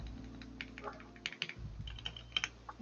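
Keys clack on a Paperplane 315 custom mechanical keyboard in a steady run of close, crisp typing strokes with a few sharper louder presses, a faint voice briefly in the background.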